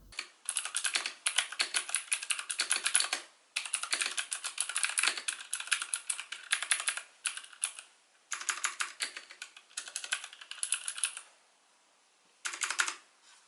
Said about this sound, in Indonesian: Untuk switch keyboard ini yang saya pakai menggunakan MX seri Blue Switch. Kira-kira seperti ini suaranya.